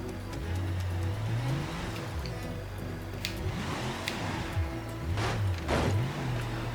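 An off-road four-wheeler in the BeamNG Drive driving game, its engine droning and revving steadily up and down in pitch throughout, with a few sharper bursts near the end.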